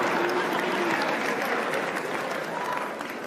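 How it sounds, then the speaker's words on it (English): Continuous audience applause fills a hall during an address by the Kenyan president, a thick steady patter of many hands that fades only a little toward the end. "What you guys are applauding for?"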